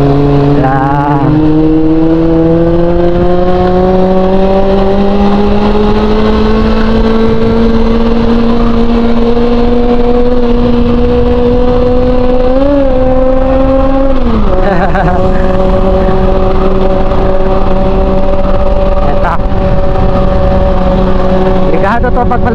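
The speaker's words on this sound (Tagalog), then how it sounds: "puro uphill yan, at naririnig natin yung ungol ng ating motor" A Honda CB400SF motorcycle engine drones loudly and continuously while climbing uphill on a mountain road, its pitch slowly rising as it labors, with a brief dip and shift partway through.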